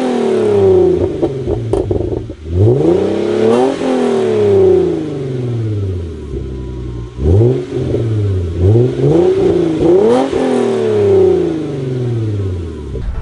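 A Hyundai Genesis Coupe 3.8 with an aftermarket exhaust and 4-inch tips revs repeatedly, close and loud, its engine note rising and falling through several sharp blips with no talking.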